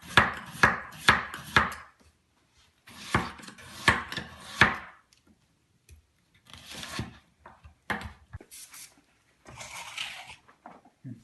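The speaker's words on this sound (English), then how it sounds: "Cutting up the potatoes" Knife chopping potatoes on a cutting board in a home kitchen, bursts of quick, crisp close chops separated by short pauses and lighter scraping.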